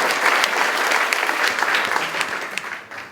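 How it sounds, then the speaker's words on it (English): Sustained audience applause filling the room after a talk on generative design, dense steady clapping for about three seconds before thinning and fading at the end. "Big round of applause."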